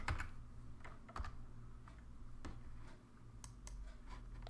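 Computer keyboard typed while creating folders for a website project, with quick irregular key clicks, quiet and close, sounding alone against a faint steady hum.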